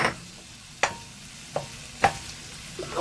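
Cold rice being broken up and stir-fried in a wok with a metal spatula for abalone seafood fried rice: a quiet sizzle punctuated by four or five sharp, irregular clanks and scrapes of the spatula against the wok.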